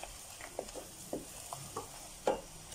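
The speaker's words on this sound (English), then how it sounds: "Everything in there and give this a good stir. Make sure your spices fry well." A spoon stirs spices frying in a pan for butter paneer, giving a few distinct scraping strokes spaced about half a second apart over a faint, steady sizzle, close and alone.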